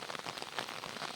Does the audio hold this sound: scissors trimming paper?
no